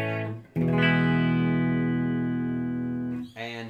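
A clean electric guitar chord through an Xotic BB Preamp rings out after a short strum, sustaining steadily with a dry, close tone before a quick follow-up strum.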